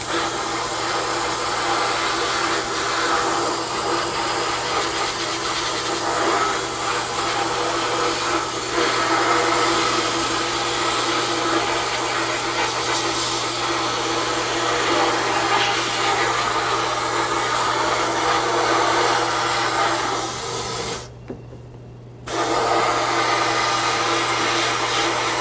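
Steady loud rush of compressed air from an Eastwood air gun in a home shop, running continuously with a low hum beneath, cutting out briefly near the end before resuming.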